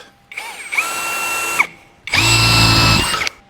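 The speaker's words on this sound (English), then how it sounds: "Gonna drill holes in this." A power drill whines in two bursts, the second louder and harsher as the bit bites into metal, with short pauses between.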